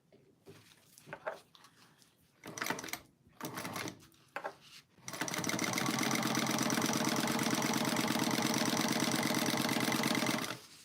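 Sewing machine basting stitches on a bag, starting with a few short handling clicks and taps and then settling into a steady, close mechanical whir that runs evenly for several seconds before it stops.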